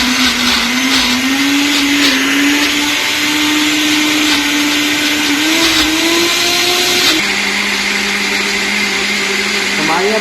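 A kitchen blender whirs loudly and steadily while blending a garlic mayo dip, its motor pitch rising slightly before dropping to a lower, settled hum partway through; a voice may be faintly present over the motor.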